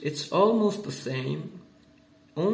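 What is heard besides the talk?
None of the usual background noises is heard.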